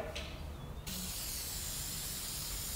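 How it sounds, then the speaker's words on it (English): A WD-40 aerosol can sprays in a steady, loud hiss that starts abruptly and keeps going without a break. "WD-40 multi-use product will get rid of all that grime, tar, even resin"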